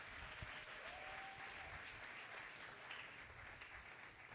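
A church congregation applauds the preacher, a steady, even wash of many hands clapping for several seconds, moderately close and fairly faint, with no talking over it.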